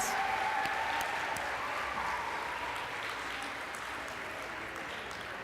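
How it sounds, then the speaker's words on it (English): Steady applause from a banquet audience at a school sports awards night, a dense even wash of many hands clapping that holds at a fairly constant level throughout, with faint crowd murmur beneath. "Can we give a big round of applause for Anya Menil, Year 10 student."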